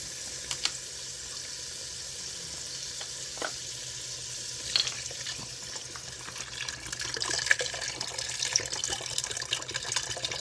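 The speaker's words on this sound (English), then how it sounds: "This is where you want to add 4 cups of broth, the beef broth." Beef broth poured into a cooking pot, a soft trickling and sizzling stream building gradually, quiet and close with a few small clinks.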